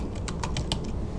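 Fingers tap out a short burst of about six keystrokes on a computer keyboard while text is entered, each click crisp and close, spaced unevenly over a steady quiet background with no voices.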